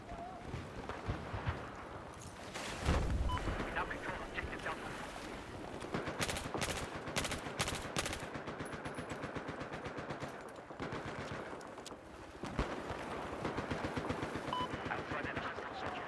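Bursts of rapid machine gun fire from a large mounted gun in an online multiplayer video game, loud repeated volleys over steady background noise, with people talking throughout.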